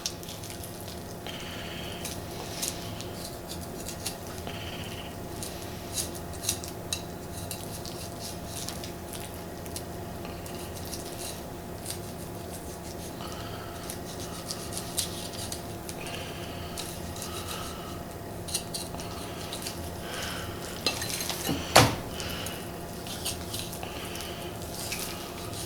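Steady wet squishing and rasping as a knife cuts and probes along the bone of a venison neck during home butchering, with small scraping ticks throughout and one sharper scrape near the end, close and fairly quiet.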